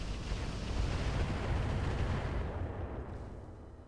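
Mech weapons fire in the Roguetech video game erupts as a dense, loud burst of booming blasts and rumbling explosions, a continuous thundering wash that slowly fades toward the end.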